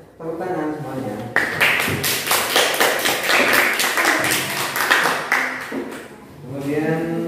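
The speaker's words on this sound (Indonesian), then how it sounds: "Tepuk tangan semuanya." A classroom of students breaks into applause, a dense burst of clapping that lasts several seconds between stretches of talking.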